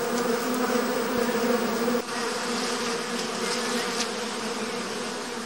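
A steady swarm of honeybees hums around an artificial hive, a thick, close buzz that dips briefly midway and then carries on alone.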